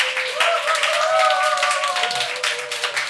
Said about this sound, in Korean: 이분들 한번 박수해 주시죠